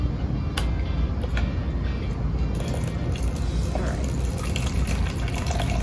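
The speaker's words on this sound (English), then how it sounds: "So I'm gonna go ahead and start my pumps." Lab pumps start up and push water through a double pipe heat exchanger, giving a steady loud rushing flow with faint ticking and clicks throughout.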